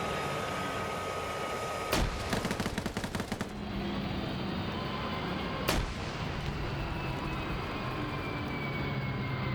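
In a tank PvP video game, a grenade blast and gunfire ring out: two sharp, loud explosions several seconds apart, with a rattling burst of rapid shots between them over a constant engine rumble.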